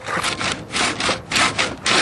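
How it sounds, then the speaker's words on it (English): Sand grinding under a rotating copper tube drill boring into stone, an ancient Egyptian technique, gives a steady rasping scrape in repeated strokes, close and fairly loud with no voices. "the sand is now steadily and slowly but surely cutting its way right through the stone"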